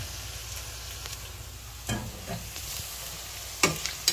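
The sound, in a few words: tocino frying and being stirred in a pan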